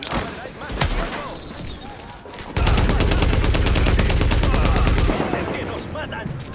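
Rapid bursts of gunfire rattle in a sustained stretch of fast repeated shots, with shouting voices and commotion before and after.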